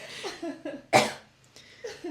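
A single sharp cough stands out amid soft breathy vocal sounds, close and fairly loud.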